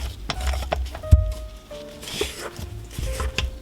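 A spatula works through whipped foaming sugar scrub in a bowl, making soft squelching, scraping strokes up close, with a few faint tonal hums in the background.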